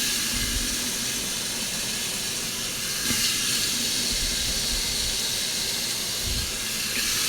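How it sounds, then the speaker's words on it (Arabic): Steam hisses loudly and steadily from a pot of meat with tomatoes as it cooks, a broad continuous rush that holds for several seconds with no voices over it. "نزل الطماط، صلاة على النبي، طلعت البخرة"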